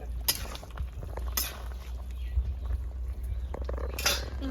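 A spoon stirs rohu fish jhal with coriander leaves in a pot, giving sparse metallic clinks and scrapes over a steady low simmering rumble, close and moderately quiet.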